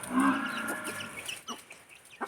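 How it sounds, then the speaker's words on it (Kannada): Native country chickens cluck and chatter in a short burst, a louder run of calls at first, then scattered softer clucks close by with no talking. "ನೋಡಿ ಇರುವಂಥ ಕೋಳಿಗಳು"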